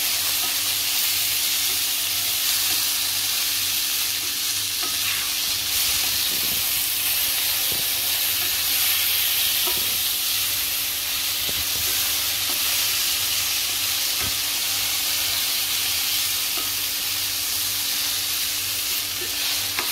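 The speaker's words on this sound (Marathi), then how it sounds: "टोमॅटो पण आपण 2 मिनिटं परतून घेऊया" Tomatoes sautéing with onions in a pan for matar paneer, a loud continuous sizzle and hiss with occasional stirring scrapes, close up and with no speech.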